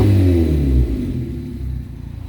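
Car engine running with a damaged rear muffler, heard up close from beneath the car: a loud, deep exhaust rumble that drops in level after a second, then settles into a lower, pulsing drone.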